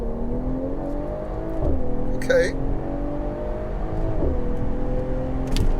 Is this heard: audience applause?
no